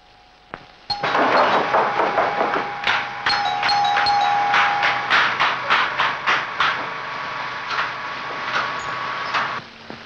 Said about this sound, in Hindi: अरे घंटी कैसी है? इतने रात गए मालूम नहीं कौन आया।